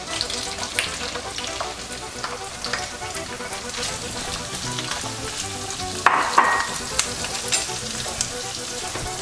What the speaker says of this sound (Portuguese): Ela vai fritar junto com o resto dos legumes.